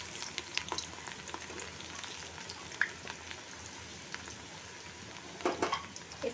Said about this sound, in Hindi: और अब मैं इसके अंदर प्याज ऐड करूँगी, तो ये मुझे इसमें फ्राई करनी है प्याज।